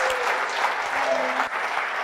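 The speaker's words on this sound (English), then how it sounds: "let's give her a huge... Thank you." An audience gives a dense, steady burst of clapping for a guest on a business podcast show about a vegan fast-food franchise, sustained and fairly close, with a faint voice underneath.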